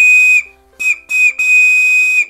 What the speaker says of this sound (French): D'un coup, il siffle fort,